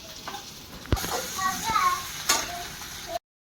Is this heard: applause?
no